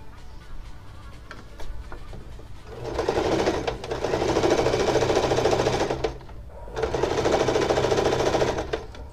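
A sewing machine stitches a tulle blouse in two runs of rapid, even whirring, separated by a short pause with quiet handling sounds.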